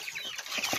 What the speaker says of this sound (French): la taille des poussins. C'est des petits poulets